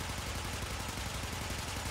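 Akstiletto Prime pistols in the Warframe video game, fitted with Magnum Force and multishot, fire a rapid, continuous stream of shots, faint and dense, with no pauses across the short burst.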